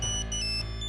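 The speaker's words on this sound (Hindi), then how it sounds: "तेरा फोन बज रहा है" A mobile phone ringtone plays, a bright electronic melody of short repeating tones in a brief loop, steady and moderately loud indoors with no talking over it.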